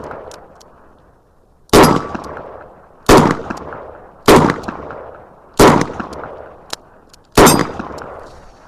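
A Chiappa Rhino revolver fires .357 rounds outdoors, five loud sharp shots spaced about a second apart with a faint click between, close and alone without talking.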